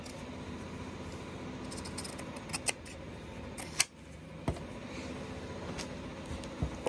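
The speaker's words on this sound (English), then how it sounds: "So I am going to go ahead and cut that off right at its seam." Scissors snip through fabric at a seam beside a sewing machine, giving faint, sparse clicks and cuts over a quiet room hum, with no voices.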